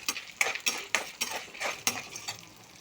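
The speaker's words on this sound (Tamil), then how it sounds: "நல்லா வறுக்கணும்." Urad dal and dried red chillies fry in a pan for curry leaf thogaiyal, with irregular spoon scrapes and clinks over a soft sizzle and no talking.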